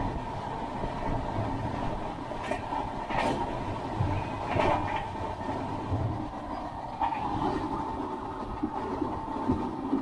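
The Jaipur–Delhi Double Decker Express (12985) running, heard from inside the coach as a steady rumbling roar with faint rhythmic clatter and occasional squeaks, continuous and with no talking.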